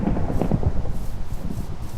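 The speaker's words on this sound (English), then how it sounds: "Thunderstorm." A thunderstorm in the video game TerraFirmaCraft, with low rolling thunder rumbling steadily under a rushing wash of rain throughout.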